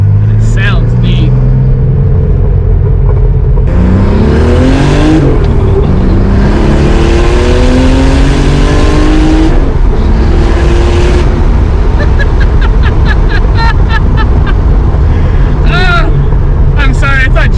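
A rare McLaren sports car, one of 350 built and fitted with Brembo brakes, revs loudly with rising and falling engine sweeps close by, while voices talk over the sound.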